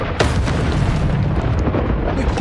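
An Expulso blast spell goes off in the Hogwarts Legacy video game as a loud, close boom followed by a rumbling, crackling burst that rolls on for a couple of seconds.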